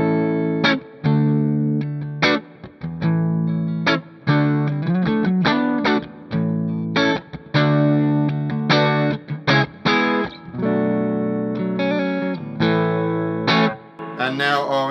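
Clean electric guitar on the neck pickup played through a Hamstead Artist 20 RT amp with reverb and tremolo, a Gray Guitars Emperor S Type; strummed chords and picked notes ring out in a steady rhythmic pattern, close and alone.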